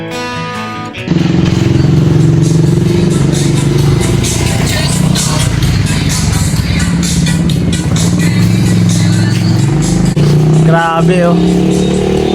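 A motorcycle engine revs loudly and close by in a steady, sustained roar lasting about ten seconds. It starts abruptly and cuts off near the end, where a brief voice exclaims.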